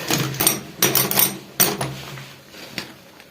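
Several loud, irregular bursts of harsh mechanical hammering and cracking, close by, as a rotary hammer in chisel-only mode chips old Soviet-era floor tiles off a floor, with brief pauses between.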